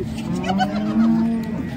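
A cow about to calve gives one long, low, steady moo close by at the Modnimb livestock market, with a faint background of market bustle.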